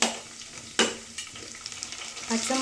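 Green chillies sautéing in a pan while making mackerel curry, a quiet sizzle broken by a few sharp scraping stirs of a spatula, with no talk.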